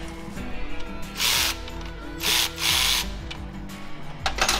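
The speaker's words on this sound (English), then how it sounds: "Now ratchet and wrench them." Ratchet and wrench working the front motor mount bolts on a Harley engine, heard as several bursts of close, raspy ratcheting clicks separated by short pauses, with metallic clatter in between and no talking.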